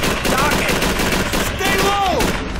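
Rapid machine-gun fire and gunshots during a boat landing battle in Call of Duty 3, a loud continuous rattle with bursts overlapping, and voices shouting through the din.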